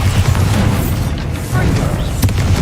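A Bombarda blast spell from Hogwarts Legacy: a loud, rumbling low-end boom that holds steady through the clip, with a brief sharper burst near the end.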